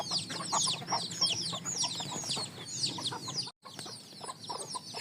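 Chicks and hens on a village farm, a busy flurry of high peeping chirps layered over low clucking, close and continuous with a brief gap near the end, no talk.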